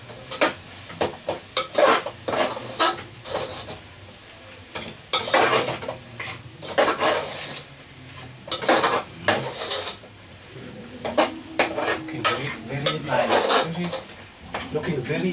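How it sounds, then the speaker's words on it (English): A spoon stirs a thick liver sauce in a cooking pot, making repeated scraping strokes against the metal in irregular bursts under a faint sizzle, close and clear. "Stir it again."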